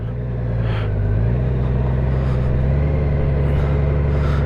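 A Honda Goldwing DCT motorcycle rolls slowly in first gear with a steady, low engine drone and a constant rumble. The engine hum is close and continuous, and no voices are heard.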